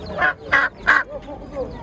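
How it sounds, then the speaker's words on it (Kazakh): Three loud, nasal honks from geese or ducks close by at a poultry market in Kyzylorda, followed by softer calls from nearby turkeys and other fowl. "Мына жерде үйрек, қаз, индюктар."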